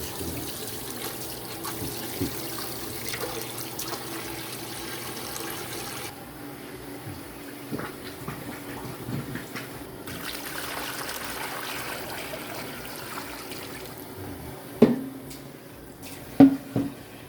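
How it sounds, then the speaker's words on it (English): Cold tap water runs into a container to cover a piece of meat for pastrami, a soft, steady trickle and splash that shifts as the flow changes, with a few small knocks near the end. "Just going to cover it completely with cold water."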